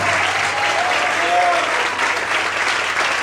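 A congregation at a Portuguese-language church service applauding continuously, dense and even clapping with some voices mixed in underneath.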